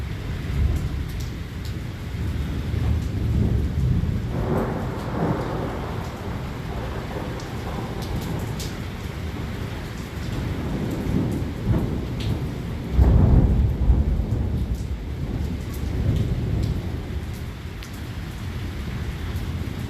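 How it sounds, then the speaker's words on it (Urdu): Thunderstorm over Islamabad with heavy rain pouring steadily and deep rumbling thunder rolling through, including a sharp loud crack partway through, heard close and with no talk. "یہ دیکھیں یہ آسمانی بجلی گری ہے جی, اس کی آواز سنیے گا جی"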